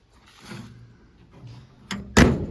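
Door of a 1951 Chevrolet 3100 pickup truck shutting: a soft first attempt followed by a louder, solid slam close by, with faint handling noise before.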